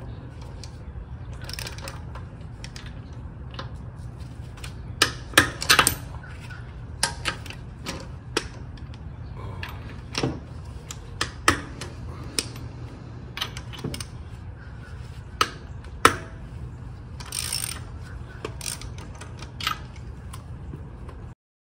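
Lug nuts on a 2016-2022 Honda Pilot wheel being broken free with a wrench: irregular sharp metallic clicks and snaps, fairly close, over a low steady background hum.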